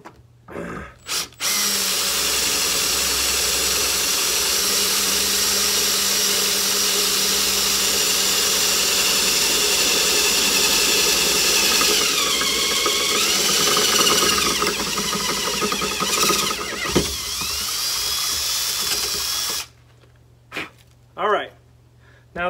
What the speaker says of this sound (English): Now that we've got our hole drilled